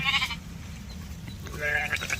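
Sheep bleat while being herded in a rain-starved rural field, with a couple of brief calls at the start and end and a low background rumble between them.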